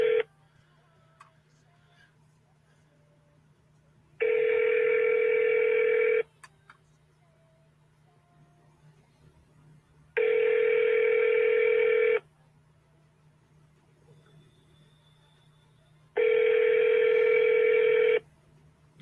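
Telephone call attempt with a repeating ring-back tone: three long, even tone bursts of about two seconds each, separated by quiet gaps with faint clicks and low hum beneath.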